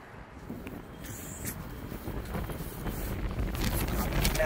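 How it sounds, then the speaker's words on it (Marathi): Strong wind buffeting the microphone on a building rooftop, a steady low roar that swells with gusts and grows stronger toward the end. "वारा पण लय सुटलाय त्याच्यामुळे आवाज काय ऐकू न झाला बहुतेक"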